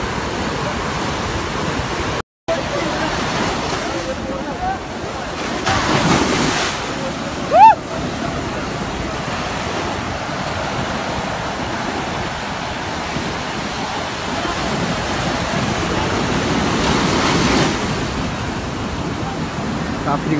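Ocean surf pounding at a beach on the sea coast during a rescue of swimmers caught in the waves, a loud continuous roar of breaking waves mixed with heavy wind buffeting and a few swelling crashes.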